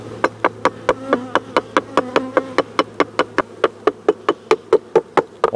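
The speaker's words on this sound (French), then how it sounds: "vous pouvez utiliser un marteau en caoutchouc si ça évite de marquer les ruches" A rubber mallet knocks on wooden beehives in a rapid steady series of about thirty sharp close blows, with a faint buzzing of bees and a low hum beneath.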